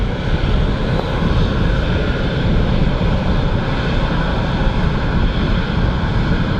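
A small Embraer jet at Manchester Airport gives a loud, steady engine roar with a deep rumble throughout, close by and without any voices.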